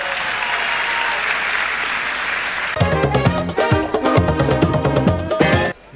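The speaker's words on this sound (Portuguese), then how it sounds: "um aplauso para o nosso tudo." Applause from the audience at the Cabo Verde Music Awards rolls on steadily as loud, dense clapping, then music cuts in halfway and plays over it before stopping abruptly near the end.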